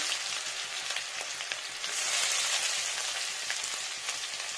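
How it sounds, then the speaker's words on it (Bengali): Finely chopped onions dropped into hot oil with melted sugar give a loud, dense, continuous sizzle like heavy rain, with scattered crackles throughout and close to the ear. "এখানে দিয়ে নিচ্ছি পেঁয়াজ কুচানো"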